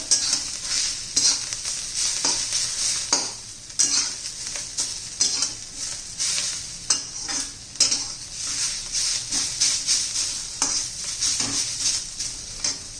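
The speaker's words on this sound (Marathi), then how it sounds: "कोथिंबीर घालू थोडीशी ती पण चांगली परतून घ्यायची आपल्याला कांद्याबरोबर" Chopped onion and coriander sauté in a pan, with a steady sizzle broken by repeated scrapes and clinks of a spatula stirring against the metal, close and continuous.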